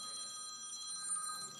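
A telephone rings with a steady electronic trill, faint and far off under a low background hum.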